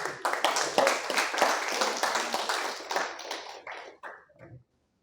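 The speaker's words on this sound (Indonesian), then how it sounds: "Tepuk tangan dulu." An audience at a talk on countering radicalism in universities claps loudly with sharp clustered hand claps for about four seconds before the applause thins out and stops.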